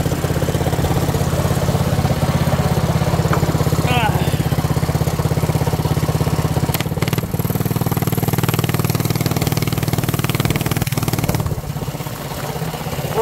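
An 80cc go-kart engine with a direct, unmuffled exhaust runs loud and close, a steady rough drone that rises and falls as it is revved, with someone talking over it.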